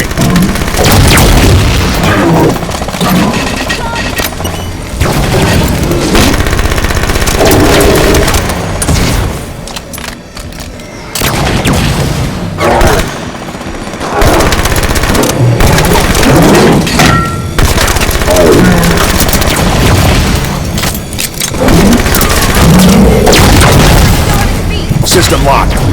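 Loud Halo 5 video game combat with repeated gunfire bursts and booming explosions that keep going throughout, mixed with voices calling out in the game.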